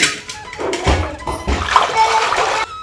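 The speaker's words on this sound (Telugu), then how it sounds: "ఇంకొకసారి మంచిగా రెండోసారి కూడా మంచిగా అయితే కడుక్కుంటున్నాము" Gongura leaves are washed by hand in a vessel of water for a village-style curry, with sloshing and splashing in a few pulses, close up and moderately loud.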